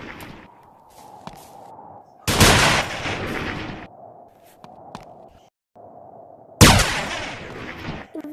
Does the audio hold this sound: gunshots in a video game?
yes